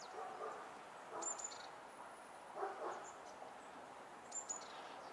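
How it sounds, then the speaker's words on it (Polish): Birds sing faintly outdoors on a calm winter day by the ice, thin distant chirps coming in short bursts over a low steady background hiss. "Ptaszki ładnie śpiewają."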